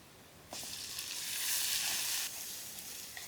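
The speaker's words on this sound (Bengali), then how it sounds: "বাগার দেওয়ার জন্য সরিষার তেল দিই, বেয়াই বেরির কাঁচা তেজপাতা, রসুন, শুকনো মরিচ ছোটো করে দিই" Garlic, bay leaves and dried chillies hit hot mustard oil with a sudden sharp sizzle, a bright crackling hiss that swells, then drops to a quieter steady fry, close by with no talking.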